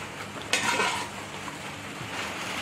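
Pasinde meat stirred in hot oil with ginger-garlic paste, a steady close sizzle with a sharp scrape of a spoon against the pan and soft stirring sounds, no talk.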